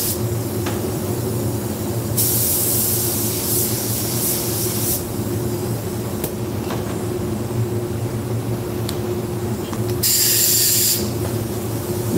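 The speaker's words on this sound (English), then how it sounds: "I found one that is just regular base coat and then clear coat. So that's what I'm spraying." A spray gun hisses steadily as base coat paint goes onto a Tesla. Long, loud bursts of spray sit over a constant low hum, with brief pauses between passes.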